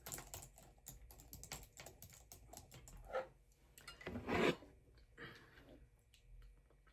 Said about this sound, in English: Just typing down our lovely conversation.